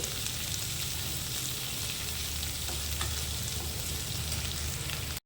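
Chopped cabbage and capsicum fry in hot oil in a pan, giving a loud, continuous close sizzle and hiss with faint stirring underneath that cuts off abruptly at the end.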